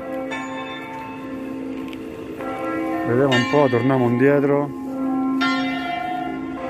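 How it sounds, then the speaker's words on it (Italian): The carillon church bells at Marienplatz in Munich ring in sustained, resonant tones that layer and overlap, with someone briefly speaking over them midway. "Fermi tutti, è partito il carillon, raga"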